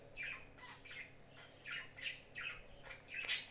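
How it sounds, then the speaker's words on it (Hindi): Early-morning birds call outdoors in a short series of squawky chirps, spaced bursts that are fairly faint and distant, with one sharper, louder call near the end. "सुबह सुबह का टाइम है माशाल्लाह और बर्ड्स की बहुत प्यारी आवाज़ें आ रही हैं"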